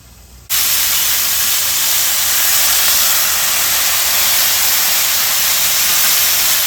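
Green beans cooking in a covered pan on the stove give a loud, steady sizzling hiss that starts abruptly and holds unbroken, close and alone with no talk.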